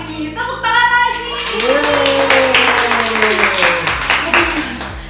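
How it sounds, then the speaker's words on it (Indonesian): Studio audience at an Indonesian talk show claps and cheers for several seconds, with a loud, dense patter of hands and music or voices running underneath. "Tepuk tangan lagi."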